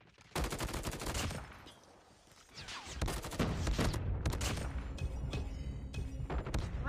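Gunfire in a Call of Duty-style video game with the Grau 5.56 rifle, dense rapid bursts and overlapping volleys with a brief lull, then sustained loud shooting and impacts, no talking.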